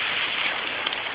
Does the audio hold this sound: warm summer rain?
yes